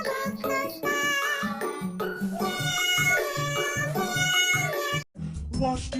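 A voice imitates kittens meowing in a sung, repeated meow-meow pattern over musical backing, loud and continuous with a brief drop near the end.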